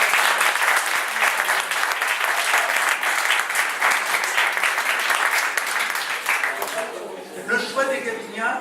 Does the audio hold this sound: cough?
no